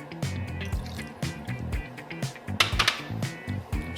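Vinegar is poured into a mixing bowl that already holds oats and egg, a short gurgling trickle of liquid with uneven dribbles and splashes up close.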